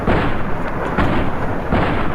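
Dense, continuous gunfire from a convict fight in Fallout New Vegas, near Primm, sounding as a loud sustained barrage of overlapping shots and bursts with no pauses.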